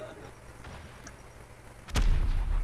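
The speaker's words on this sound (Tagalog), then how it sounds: "Sumakto yung granada dun." A grenade goes off in Call of Duty Mobile with a sudden loud boom and a low rumbling tail after a stretch of quiet background game noise.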